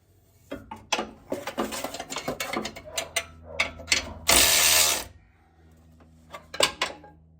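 A ratchet wrench tightens the downpipe bolts on an OBS Ford 7.3 Powerstroke truck, giving bursts of rapid, close metallic clicking with pauses, one brief louder scraping rush, and a few final clicks.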